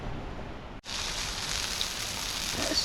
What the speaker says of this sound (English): That's sizzling away nicely, that is.